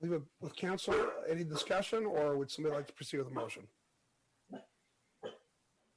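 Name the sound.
dog barking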